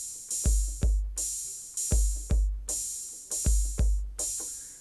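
Roland JD-Xi R&B kit 1 drum sequence: booming bass drum hits paired with sharp cymbal splashes, repeating in a steady looping rhythm, close and clear with no voice.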